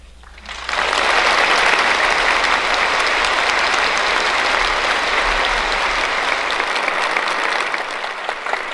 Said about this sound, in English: with the applause of the delegates here assembled in the San Francisco Opera House